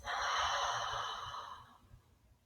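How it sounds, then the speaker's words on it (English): During a guided meditation, a single long, soft breath is pushed out through the mouth. It is close and breathy and fades away over about two seconds. "Take a big inhale breath. Exhale out the mouth."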